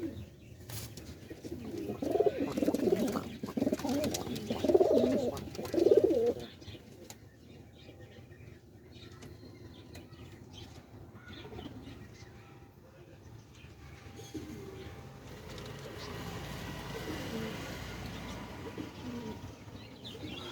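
Native pigeons at a pigeon shop coo in a loud low warble over the first few seconds, then fade into a softer background murmur while people talk nearby.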